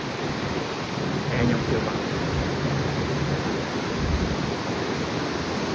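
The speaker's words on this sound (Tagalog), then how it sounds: "malakas ang alon" Strong ocean waves seen from a cruise ship wash in a continuous broadband roar with swelling surges, while a person speaks briefly over the noise.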